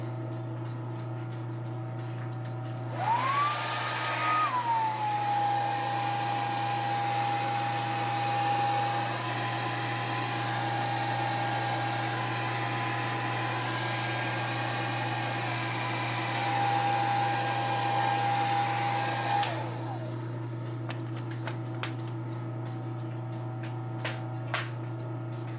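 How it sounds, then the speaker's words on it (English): A blow dryer runs steadily for about sixteen seconds with a loud broadband whoosh and a high whining tone, switching on abruptly and cutting off, over a constant low hum. "Time for a new blow dryer."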